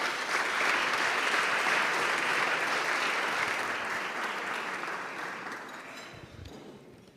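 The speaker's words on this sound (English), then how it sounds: "give her a round of applause" A room full of people claps continuously, loud at first and gradually thinning out toward the end, with no talking over it.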